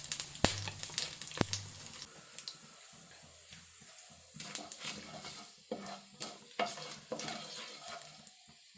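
Panch phoron spices fry in hot oil for a star fruit pickle, with a quiet sizzle under irregular scrapes and taps of a spoon stirring against the pan, close up.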